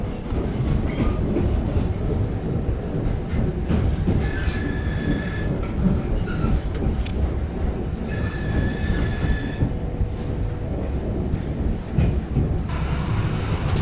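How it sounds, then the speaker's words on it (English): A train pulling into Par station in Cornwall, wheels rumbling and clacking on the rails with two bursts of high metallic squealing from the wheels, loud and close with no talking. "the train's just getting into Par, where we changed for Newquay"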